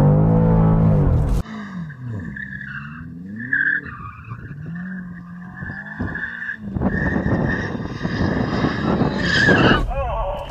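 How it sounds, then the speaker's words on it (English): Tyres skid and squeal loudly as an engine roars, with a brief pause then renewed screeching wheelspin; voices are heard faintly underneath. "You warm up your tyres."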